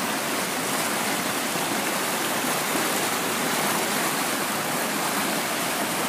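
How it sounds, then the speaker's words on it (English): A park waterfall roars in a steady, dense, even wash of falling water close by, unbroken and alone with no voices. "And the sound of water is just so soothing."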